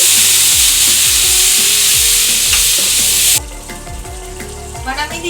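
Tomato, ginger and green chili paste hits hot oil with a loud, hissing sizzle, then calms to a softer bubbling fry as it is stirred, with rhythmic spoon scrapes throughout.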